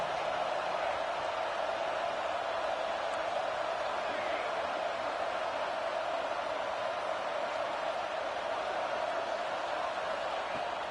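Home crowd roaring in an NCAA college football video game on a third-down defensive stand, a dense, steady wash of loud cheering that holds without a break throughout.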